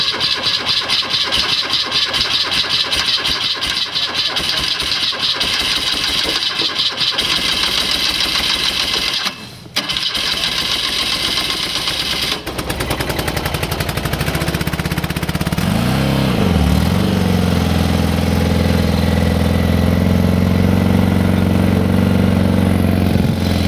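Car engine cranking after glow plug preheating, a long steady whine, then catching and settling into a loud, rough idle close by, with no talking.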